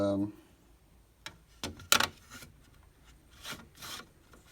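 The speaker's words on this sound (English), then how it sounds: "I think a little deburring and it'll work out nice." A file scrapes and rasps in a few short, separated strokes, deburring an AC vent piece for custom gauges in a 1974 Ford Cummins 4BT build, close but fairly quiet, with a brief voice at the start.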